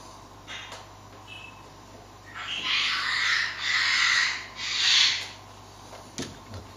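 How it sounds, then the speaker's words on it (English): Harsh, raspy parrot squawks build into loud bursts after a quieter start, repeated in waves, fairly close with steady background hum. "Parrots are really making a lot of noise."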